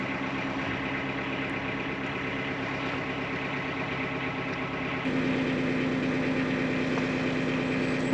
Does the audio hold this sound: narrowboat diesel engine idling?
yes